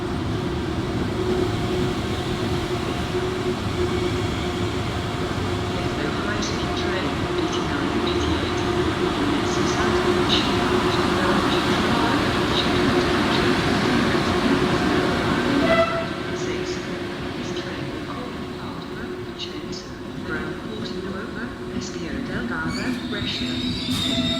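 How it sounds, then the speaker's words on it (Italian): Trenitalia regional express train at Venezia Mestre station, a steady broadband rumble of rolling wagons with faint squeals and clanks, loud and close, easing slightly after a shift partway through, with station voices faintly underneath. "Il treno regionale veloce di Trenitalia delle ore 15:14 per Venezia Santa"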